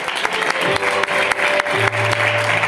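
Church congregation applauding during a Spanish-language sermon on eschatology, loud dense clapping with a low held keyboard or organ tone underneath.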